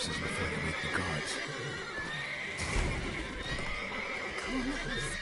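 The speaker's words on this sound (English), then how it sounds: "Gotta calm all the horses before they wake the guards" Horses whinny and neigh in a stable in The Witcher 3 amid a dense, busy background of clattering and ambient game noise, with a few sharp transient hits.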